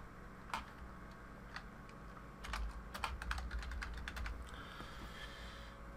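Keystrokes on a computer keyboard while renaming a certificate template on Windows Server 2019, a quick irregular patter of clicks with short bursts and pauses, close and fairly quiet over a low steady room hum.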